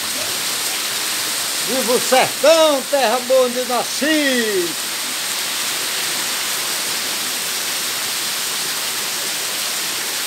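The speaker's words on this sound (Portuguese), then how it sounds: "É chuva, é grossa, viu? É despejando, é enchendo e derramando." Steady broadband hiss of heavy rain pouring throughout, with a man singing briefly over it early on.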